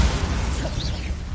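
Bombarda blasting spell in the video game Hogwarts Legacy, a loud full-range burst with deep rumble and a brief swishing, shattering edge, sustained as one dense blast.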